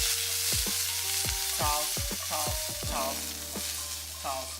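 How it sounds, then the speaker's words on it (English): Food sizzling and frying in a pan while it is tossed and stirred with tongs or a spoon during a cooking show demonstration, with a steady hiss and repeated clinking stirs throughout. "When I use my tongs or spoon or something, I just toss it up"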